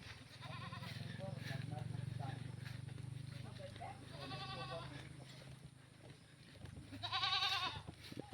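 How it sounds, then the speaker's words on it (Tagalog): Goat bleats rise over a low steady hum, a few wavering cries scattered through, the loudest near the end, with people talking quietly in the background. "Talaga siyang kambing ah."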